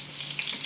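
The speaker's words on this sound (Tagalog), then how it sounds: "Lagay na po natin ang bawang," Garlic and onion sizzle in a hot frying pan, a brief steady hiss up close with no voices.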